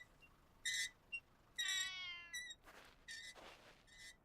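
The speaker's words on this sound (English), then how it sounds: "I found a kitty cat." A cat meows several times in short, high calls, some clipped and some drawn out, with quiet gaps between them, close by and alone.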